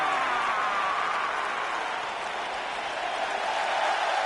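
Crowd applause and cheering fill a wrestling arena in the video game WWE 2K19, a steady loud wash of noise that runs without a break.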